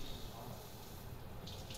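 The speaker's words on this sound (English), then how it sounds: "so Wim forced me to take a hot shower" Hot shower water runs in a steady, even hiss, a soft continuous wash of spray.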